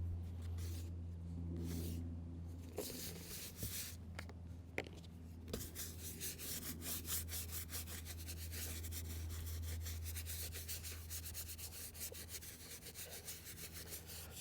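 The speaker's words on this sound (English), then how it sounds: "You got your eraser." A pencil eraser rubs back and forth on drawing paper in a quiet room, making soft, continuous scratchy strokes with no voices.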